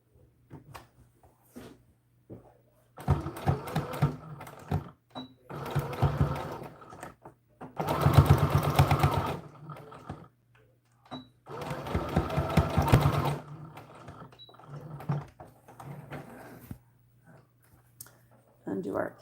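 Sewing machine stitching layers of a doll dress bow in several bursts of rapid mechanical whirring, separated by pauses with small clicks, while someone talks between runs.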